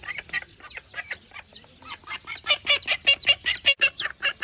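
A mother duck on a farm quacks excitedly in a rapid series of loud, close calls that speed up and grow louder toward the end, with no talk.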